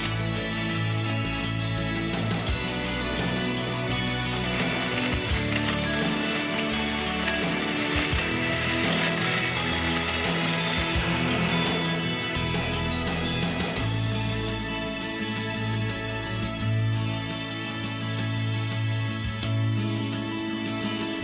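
A blender whirs steadily through a mangrove fruit paste made for a body scrub, mixed with avocado or frangipani for scent. The motor hum runs continuously and loud for about twenty seconds, alone with no talk.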